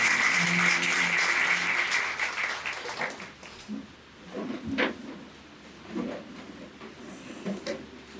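Applause fills a church's Sunday service, a loud burst of clapping that gradually thins and fades into scattered claps and room noise.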